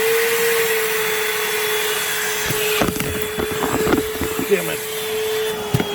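A Milwaukee Fuel wet/dry shop vacuum runs with a steady, loud motor whine and suction hiss, while someone briefly speaks and some rattling, bumping handling noises come through partway in.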